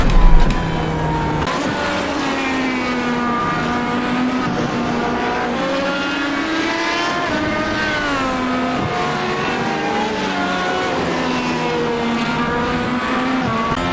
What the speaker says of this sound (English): Just hear the tyres scrubbing a little bit on turning there